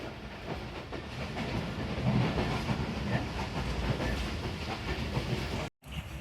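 The Tezgam Express rolls along the rails past the Changa Manga forest, a steady rumbling clatter of wheels heard from inside the moving train, with a brief cut near the end.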